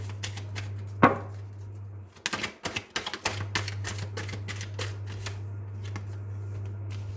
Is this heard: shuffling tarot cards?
yes